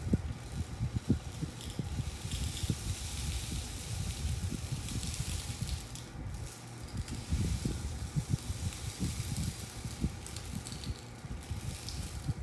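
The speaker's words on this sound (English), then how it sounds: "Now, Here's your very own rain stick" A homemade rain stick filled with rice, shaken to give a steady, soft hiss of trickling grains with scattered low rattles, continuous and moderately quiet.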